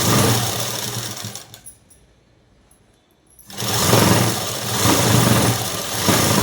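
A sewing machine stitches a straight seam in dress cloth with a steady loud whir, stopping for about two seconds midway before running on again.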